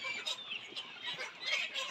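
Kazi Highland Brown layer hens cluck and chatter on a poultry farm, several soft overlapping calls sounding close and fairly faint with no talk over them.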